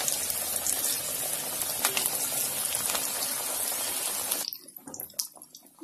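Vegetable cutlets deep frying in hot oil over a medium flame, a steady dense sizzle and crackle that drops away sharply near the end, leaving quieter scattered pops.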